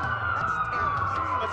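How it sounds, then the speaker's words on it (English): Police sirens wail in the Watch Dogs video game during a city blackout, a steady wavering siren tone with other siren sweeps overlapping beneath it, over low background rumble. "That's a lot of sirens for a blackout."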